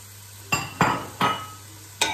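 A spoon stirs chopped onions and pepper in a pot, making four distinct, close scraping strokes spaced about half a second apart against a quiet background.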